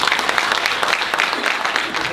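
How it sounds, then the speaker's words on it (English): Audience applause at a Free Play Florida 2014 gaming event for Showbiz Pizza, a steady dense wash of clapping from a crowd filling the whole stretch at even loudness. "let's have a round of applause for Showbiz"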